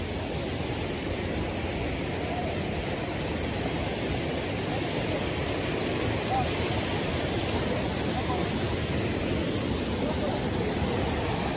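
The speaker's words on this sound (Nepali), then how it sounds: "झरना यही हो झरना" Kanching waterfall in Selangor, Malaysia, pours out a steady, even roar of rushing water that fills the whole scene without a break, with faint voices now and then.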